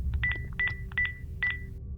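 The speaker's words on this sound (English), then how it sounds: "his hands shaking as he dialed the emergency number" An emergency number being dialed on a telephone: a run of clear electronic keypad tones, pressed in irregular pairs and groups over a steady low background hum.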